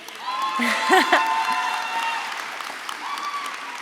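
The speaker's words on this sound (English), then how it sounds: "Yes, round of applause for Kate." A crowd applauds at a university graduation ceremony, a sustained wash of clapping from a large hall with voices and a whoop rising over it, then tapering slightly.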